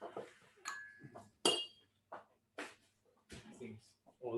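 A whisky glass clinks a few times at close range, with brief bright chimes mixed among quiet movement and occasional talk.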